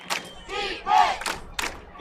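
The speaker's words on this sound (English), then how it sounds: "Hear the crowd getting fired up." A high school football crowd roaring and yelling in the stands, a dense burst of loud overlapping shouts and cheers rising and falling in waves.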